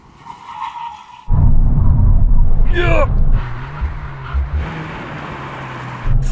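Volkswagen Golf R cars brake hard from 160 km/h. After a quiet start, a loud roaring rumble cuts in, a brief squealing tyre chirp follows, then the noise settles into a lower steady drone with a short voice.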